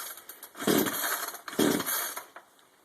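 Two sharp rasping pulls on a chainsaw's starter cord, about a second apart, with brief mechanical rattles but no steady engine run, heard up close.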